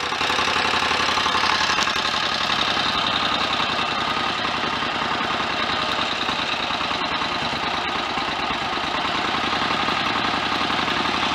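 A Royal Enfield 1000cc Model K motorcycle engine holds a fast idle, a steady, loud, continuous mechanical thrum with fine ticking and knocking texture throughout.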